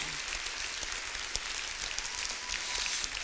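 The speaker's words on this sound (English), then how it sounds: "So let's give all of them a round of applause for being here." Quiet, distant applause from an audience at a Costa Mesa city council and mayoral candidates forum, a soft, even patter of clapping that continues for a few seconds with no talking.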